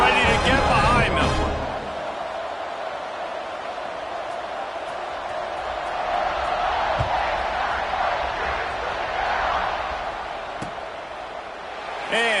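A football stadium crowd roars and cheers at a game, a broad continuous wash of distant voices that swells and falls over several seconds, with a commentator talking over it.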